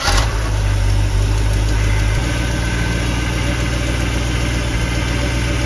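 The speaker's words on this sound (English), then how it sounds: "So now the truck runs again." A GM truck with a 10si three-wire alternator that had been overcharging idles steadily nearby; the loud engine hum shifts slightly lower after about two seconds and then holds even, with no talk.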